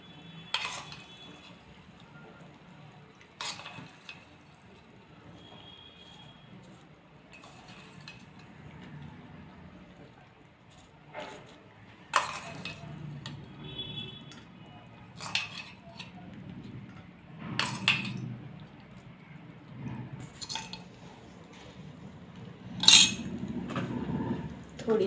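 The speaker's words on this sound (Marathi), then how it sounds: "आता ही फोडणी आपण ह्याच्यावरती अशी लावून घेऊया।" Spoon scraping and clinking against a dish while spreading hot tempering over steamed dhokla, scattered metallic taps and scrapes at irregular intervals, close and fairly quiet.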